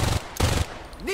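Video game gunfire in Crime Boss: Rockay City, two short, loud bursts of rapid shots with a brief gap between them, followed by a rising electronic tone.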